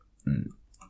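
A single short mouse click, close and crisp, in a quiet room.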